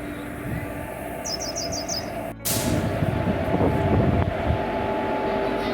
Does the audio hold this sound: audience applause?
no